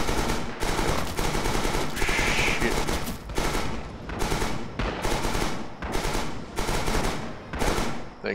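Machine gun fire from the World War II shooter Rising Storm rattles in long sustained bursts separated by short pauses, loud and close, with more distant gunfire around it.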